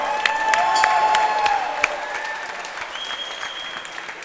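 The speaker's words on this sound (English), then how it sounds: "how about a nice round of applause for these guys?" A crowd at a PFC 17 fight event applauds the fighters, dense clapping and cheering that stays loud at first and then fades slightly, with faint whistles over it.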